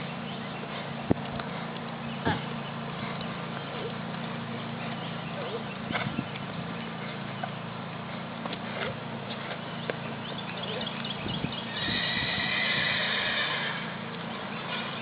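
A ridden horse's hooves clop in an uneven walking rhythm over steady outdoor background noise, with a whinny rising briefly near the end.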